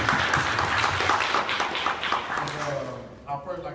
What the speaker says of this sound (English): So first of all, I want to give a hand clap to DJ.